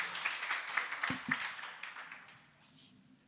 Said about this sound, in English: Can we give a round of applause to Jamal and the MENA region?